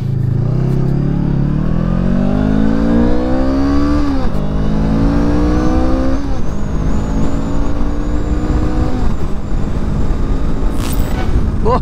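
A Honda CMX 500 Rebel S 2023 motorcycle accelerates hard through several gears, its engine note climbing in pitch, dropping at each shift near 4 and 6 seconds, then rising again, loud and close.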